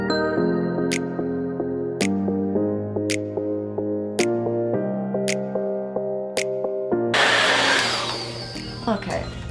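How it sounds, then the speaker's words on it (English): A handheld blow dryer switches on near the end to dry hair, a loud close whooshing motor roar that follows several seconds of background music. "I'm just gonna take my blow dryer and just a brush"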